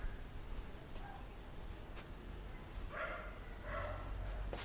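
Dogs barking somewhere in Hong Kong, short distant barks heard in small clusters over steady outdoor background noise.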